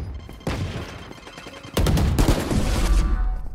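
Video game gunshots, a burst of shots followed by a louder sustained fusillade of rapid gunfire and booms, close and loud.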